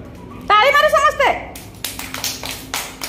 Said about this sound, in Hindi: ताली मारो समस्ते